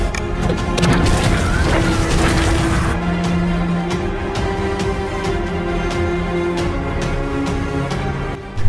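A film explosion set off by a button press on a device inside an alien nest, booming loud and dense across the first three seconds, then giving way to a steady rumbling, clattering aftermath.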